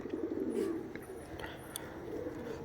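Pigeons coo softly nearby, a low throaty burble in short bursts, with faint chirps and light background noise.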